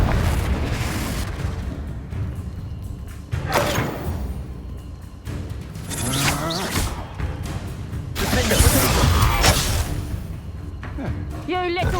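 Confringo fire-blast spell going off in Hogwarts Legacy combat, with several booming, thudding explosions and whooshes amid loud game music, shouted character dialogue and other spell effects layered throughout.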